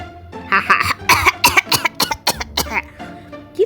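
A story narrator performs a cough within a spoken tale, giving a run of sharp, close coughs and throat clearing in quick succession, loud and dry, mixed with voiced bits.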